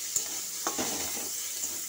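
Ginger, garlic and onion paste fries in oil in a kadai with a soft, steady sizzle. A few light scrapes and taps from stirring break through it.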